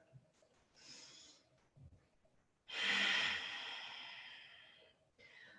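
A long, audible exhale through the nose during a yoga lunge, close and breathy, following a few softer breaths and trailing off before a short intake at the end, no speech heard.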